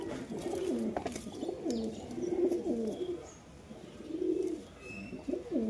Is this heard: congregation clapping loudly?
no